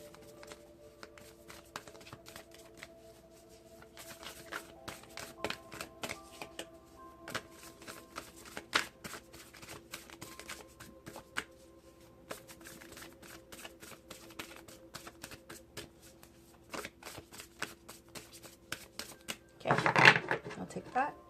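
Divine Feminine Oracle cards being shuffled by hand, soft rapid riffling clicks and flutters repeating close up, faint and irregular, ending in a louder burst of card shuffling.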